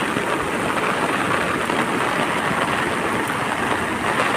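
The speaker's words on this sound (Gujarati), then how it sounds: "જોરદાર વરસાદ, અંધરાધાર ભૂકા કાઢી નાખ્યા." Torrential monsoon rain pours down in the Gir region during a downpour of several inches, a dense, loud, unbroken roar of water hitting surfaces, with no voices.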